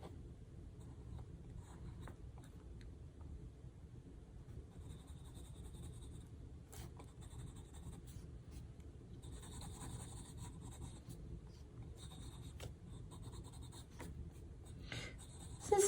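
Graphite pencil scratching and shading on sketchbook paper during a head drawing, soft close strokes in short bursts and longer scribbles against a quiet room hum, with no talking.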